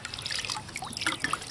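Water trickling and dribbling in a bucket during an old radio restoration, light splashy drips and a small stream, close and fairly quiet.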